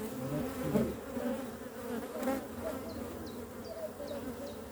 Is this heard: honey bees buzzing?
yes